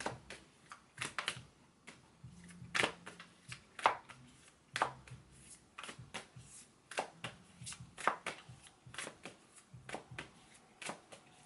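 A deck of tarot cards is shuffled during a psychic reading, with close, quiet riffles and taps in irregular bursts and no talk.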